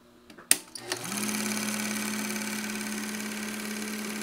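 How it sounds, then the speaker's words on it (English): A GAF Anscovision 488 Dual 8 film projector, freshly cleaned and fitted with a new belt, clicks on and settles into a steady mechanical whirring hum that runs on alone at close range. "Let's see what happens here. Let's fire it up."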